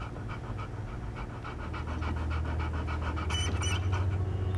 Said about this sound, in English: found the poor pup whimpering alone in a house